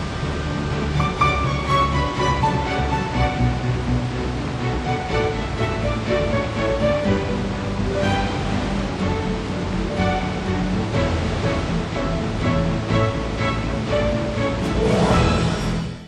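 Burney Falls, a waterfall fed by underground springs at 100 million gallons a day in McArthur-Burney Falls Memorial State Park near Redding, roaring as a loud continuous rushing wash.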